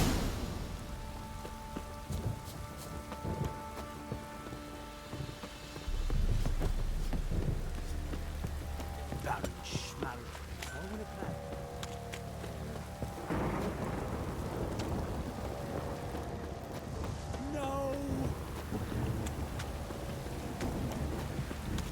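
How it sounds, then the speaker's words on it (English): Rain falls steadily in the video game The Witcher 3 while thunder rumbles and booms, growing heavier partway through, with faint game sounds scattered over the storm. "Don't stop raining, my arse will rot off."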